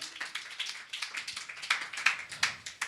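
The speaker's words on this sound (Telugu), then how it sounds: "చప్పట్లు కొట్టి దేవుని కనపరచండి." A church congregation at a Telugu Christian service claps hands, separate sharp claps in a loose, uneven rhythm, fairly quiet and with no voices over them.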